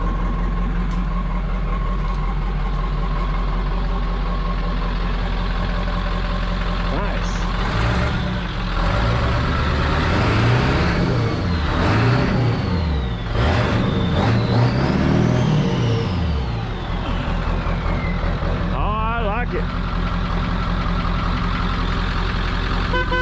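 A 1963 Chevrolet Impala engine runs close by as a steady low rumble, with a stretch of revving midway before it settles back to idle; people talk over it.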